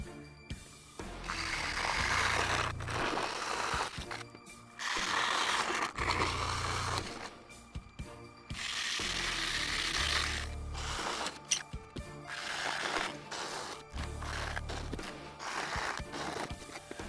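Holes are drilled into a wood workpiece in repeated bursts, each a few seconds of close, loud grinding and whirring separated by short pauses.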